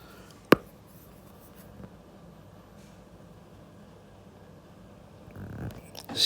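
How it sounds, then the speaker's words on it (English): A pen scratches steadily across a surface while sketching a graph, opening with one sharp tap and then continuing as faint, even strokes. No one speaks. "let me draw it one more time"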